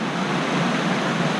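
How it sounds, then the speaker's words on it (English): Steady, close broadband rush of the lesser Deuel Creek Falls on a hiking trail, heavy flowing water running continuously without pause and with no voices over it. "Right here we have the lesser Deuel Creek Falls."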